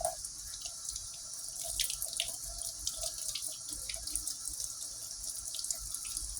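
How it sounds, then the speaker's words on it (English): Water runs from a faucet in a steady hiss with a few splashes and drips, moderately close and alone, as a doll is rinsed under the tap. "Turn the water down a little bit."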